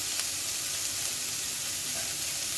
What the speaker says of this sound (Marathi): आणि याच्यामध्ये आता थोडं फ्राय करू